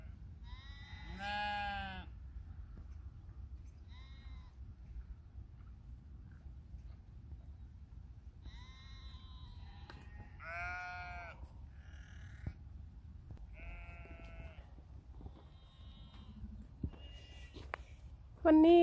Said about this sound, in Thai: ดูแกะเต็มภูเขาเลย